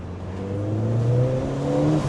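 High-mileage Ford Fiesta ST with an intermittent stutter, its engine held at about 3,000 RPM, a steady sustained hum with clear droning harmonics, close and loud, no talk over it.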